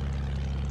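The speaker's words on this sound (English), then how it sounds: "Plane coming from spawn." A propeller plane flies in Battlefield 1, a brief steady low engine drone with a throbbing hum.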